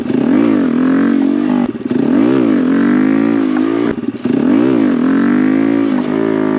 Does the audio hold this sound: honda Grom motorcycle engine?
yes